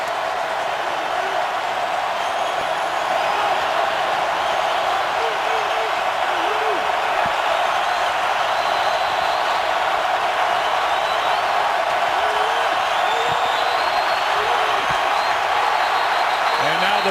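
Stadium crowd at a 2012 49ers versus Saints NFL football game in New Orleans: a steady, loud roar of massed voices holds for the whole stretch, with no break.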